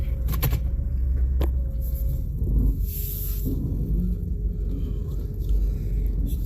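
A car with a newly replaced Optispark distributor driving slowly around the block, a steady low engine rumble and road noise close by, with a brief hiss midway.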